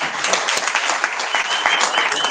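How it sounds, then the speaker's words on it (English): A conference audience at a mining event in Cape Town applauds the panelists with steady, dense clapping that fills the room at moderate loudness. "please a round of applause for our panelists"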